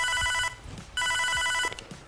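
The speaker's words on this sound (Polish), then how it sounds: "Nagle dzwoni telefon" Two bursts of a telephone ringing, each a bright electronic trill lasting about half a second to under a second, separated by a short pause, loud and clear with low background noise, no talk.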